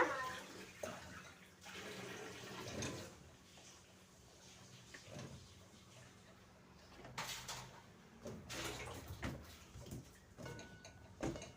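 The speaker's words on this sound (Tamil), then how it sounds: "இப்போ நாங்கள் முருங்கைக்கெல்லாம் சீவி இந்த மாதிரி கழுவி எடுத்துக்கிறோம்" Peeled drumsticks being washed in water in a home kitchen, with soft splashing and sloshing, a few light knocks of a vessel, and faint background noise throughout, fairly quiet and close.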